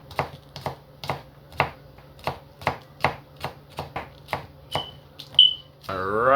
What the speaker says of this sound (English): now I'm dicing my scallions